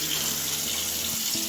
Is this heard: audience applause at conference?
no